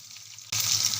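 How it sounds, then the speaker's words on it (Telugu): Mustard seeds, cumin and onions go into hot oil for a meal maker curry, as a faint background hiss jumps abruptly to a loud, bright, continuous sizzle halfway through. "నూనె వేడైన తర్వాత 1 స్పూన్ ఆవాలు, కొద్దిగా జీలకర్ర, తర్వాత కొన్ని ఉల్లిగడ్డలు"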